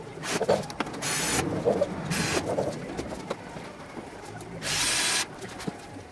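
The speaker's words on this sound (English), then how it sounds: "we'll drill the transfer, drill the holes for it" Power drill boring transfer holes for a nut plate strip inside an aircraft tail cone closeout, several short whining bursts of drilling, close and loud, separated by brief pauses with handling noise.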